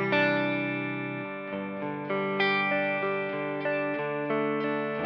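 A Shure Classic S electric guitar played through an effects pedalboard rings out in a series of sustained, chorused chords and notes, each strum decaying before the next, clear and fairly close with no talking.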